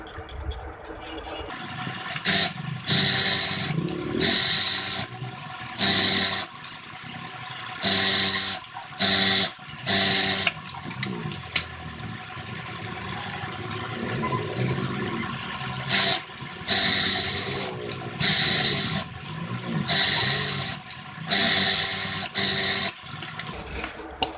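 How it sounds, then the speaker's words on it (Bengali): A sewing machine stitches the side seam of elastic-waist pants in repeated loud, whirring bursts of a second or two each. A steady low hum fills the short gaps between runs, and no one speaks. "প্রথমে আমরা প্যান্টের সাইডটা সেলাই করে নেব।"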